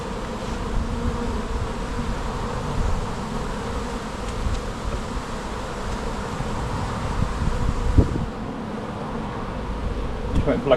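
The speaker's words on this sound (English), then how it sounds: "There are bees, the bees are going that way." Bees swarming around a bin during a hive removal, a steady dense buzzing that hums continuously near the listener with slight swells, no talking.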